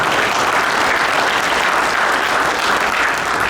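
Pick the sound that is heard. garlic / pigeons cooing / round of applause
round of applause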